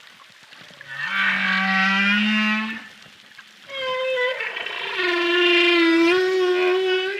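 Humpback whale song picked up by hydrophone off Tahiti, a male in courtship display: long drawn-out moaning and rising tonal calls, loud and close, in two extended phrases separated by a brief lull.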